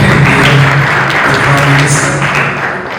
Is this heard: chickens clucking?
no